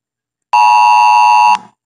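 A Lenovo S5 phone's emergency alert sounds as one loud, steady electronic buzzer tone lasting about a second, beginning and ending abruptly with no speech.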